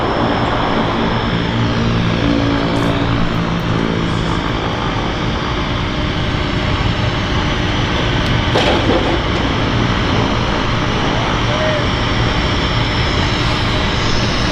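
An airplane landing at Vancouver Harbour Airport produces a loud, sustained engine roar close by that stays steady throughout, with no talking over it.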